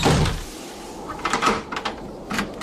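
A door is shut and locked in a radio drama adaptation of a Ray Bradbury science fiction story, giving a muffled thud followed by a few short clicks and rattles, with no talking.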